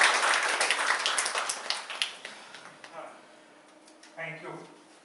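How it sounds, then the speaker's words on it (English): Audience applause welcoming a guest speaker at an oncology and AI conference session, fairly loud at first then fading over a few seconds, with a voice talking briefly near the end. "please join us in extending a very warm welcome to Dr. Debdoot Sheet with round of applause"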